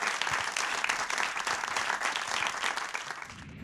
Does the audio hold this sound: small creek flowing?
no